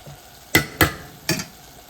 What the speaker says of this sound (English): Here is some chopped cilantro. Just stir that in for a little bit of flavor.